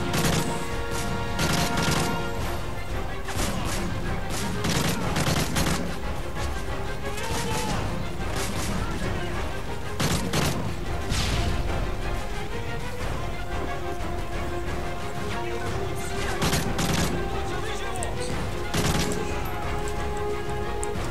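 Gunfire in Modern Warfare 3 on the Turbulence mission: steady, dense game shooting with repeated shots and crashes over a constant loud bed of noise, lasting the whole stretch.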